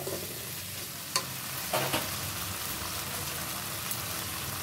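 Potato and pointed gourd pieces fry in spiced oil for an egg and pointed gourd curry, giving a steady close sizzle with a few brief stirring clatters and no talking.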